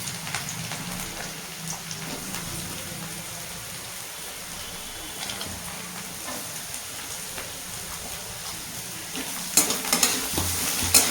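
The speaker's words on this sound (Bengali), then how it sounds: "গাজরগুলো 2-1 মিনিট ভালো করে ভেজে ভেজে নেবো" Vegetables with carrots frying and being stirred in a pan, a steady broadband sizzle with scraping at a constant close level, sharper clatters near the end; no talk.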